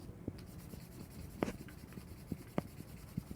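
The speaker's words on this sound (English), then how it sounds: "So we are going to color the paper plate all yellow." Crayon scribbling across a paper plate while coloring it yellow, soft continuous scratchy rubbing with a few sharper strokes spaced irregularly, close and quiet, no voices.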